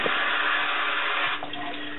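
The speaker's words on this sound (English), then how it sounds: "fill one side of the hose, it doesn't matter which side, fill it up with water, put a little bit of water in there" Water runs steadily into one side of a hookah hose, a continuous close, bright hiss that lightens and softens after about a second and a half as the flow settles.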